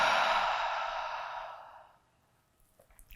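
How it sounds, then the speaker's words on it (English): A long exhale through the mouth during a yoga breathing exercise, loud at first and slowly fading over about two seconds, then near silence with faint movement. "Let's close with a breath in through the nose, out through the mouth."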